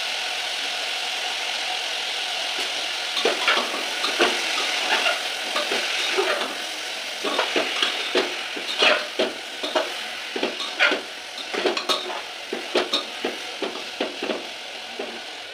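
Food frying in hot oil in a pan, a steady sizzle with scraping, clattering stir strokes that come in bursts and grow busier toward the end, with no talking.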